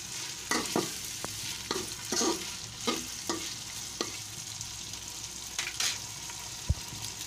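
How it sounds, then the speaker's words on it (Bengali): Chicken being stirred with salt in a cooking pot while it fries: a quiet, even sizzle under repeated scraping strokes of a spoon against the pot, about ten of them in irregular rhythm, close by with no speech. "ভালো করে এটা আমি মিক্স করে নেব।"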